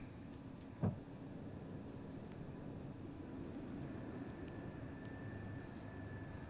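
An airliner climbs away from the runway on a flight from Charlotte to St. Thomas, its engines making a steady, broad roar throughout, with a single short thump near the start as the landing gear comes up.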